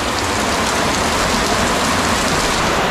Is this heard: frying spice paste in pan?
no